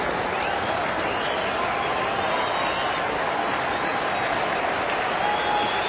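A baseball crowd at a chilly night Reds game in Cincinnati cheers and applauds in a loud, steady roar that fills the stadium throughout.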